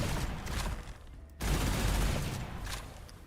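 Rapid weapon explosions in the shooter game Gunfire Reborn, a dense burst of blasts cutting out briefly before a second loud, sustained barrage of crackling detonations.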